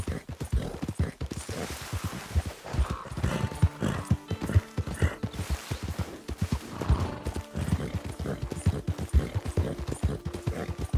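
Horse hooves clop in a fast galloping rhythm in the video game Red Dead Redemption 2, steady and close throughout with occasional snorts and a whinny, no talking.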